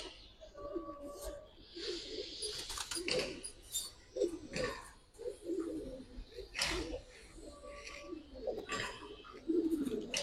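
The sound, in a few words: pigeons cooing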